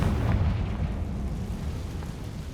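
The Confringo explosive curse in Hogwarts Legacy goes off as a low, rumbling blast right at the start, its boom decaying gradually over the next couple of seconds.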